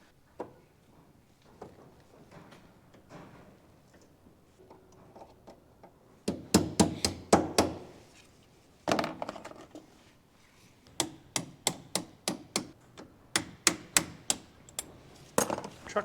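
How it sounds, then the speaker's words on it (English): A hammer drives a punch on a truck's treadle valve, with faint scraping at first and then bursts of sharp metallic strikes in quick, uneven runs, close by and loud against a quiet background. "Hammer and a punch."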